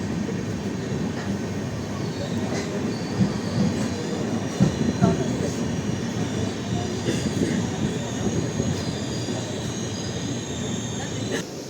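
A Tambaram to Rameswaram express passenger train rolls along the rails with a steady low rumble and occasional rattles and clanks, fairly loud and continuous.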